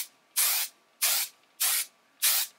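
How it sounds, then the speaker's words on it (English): Session hair spray from an aerosol can, heard as four short, evenly spaced bursts of loud, close hissing mist with silence between them. "you're gonna use session spray"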